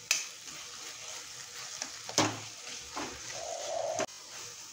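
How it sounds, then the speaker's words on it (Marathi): Spices sizzle and fry in hot oil as a spoon stirs them in a pan for sprouted green moong sabji, with steady crackle and occasional scraping stir strokes close up. "मसाले छान परतत आले आहे आणि हे बघा आजूबाजूला तेल पण छान असं सुटत आलं आहे"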